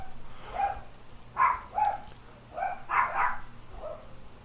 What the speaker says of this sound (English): I apologize if you can hear my dogs.